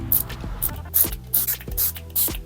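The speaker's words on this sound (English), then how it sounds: "some spritz of setting spray." Several short, sharp hissing spritzes of makeup setting spray come in a quick irregular series over a low musical backdrop, each burst brief and close.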